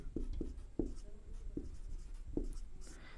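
Pen writing by hand on paper during a class 10 maths lesson, a handful of quiet separate scratchy strokes at an uneven pace.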